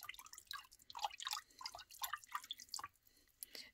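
Water tinted with blue food coloring being stirred, soft close splashes and drips in an irregular series of light bursts over a quiet background.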